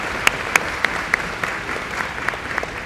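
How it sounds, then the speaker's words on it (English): A crowd at a high school graduation ceremony claps for the salutatorians and valedictorians, a steady mass of applause with a few sharp, closer individual claps standing out at a regular rhythm. "One more round of applause, please, for our two salutatorians and valedictorians."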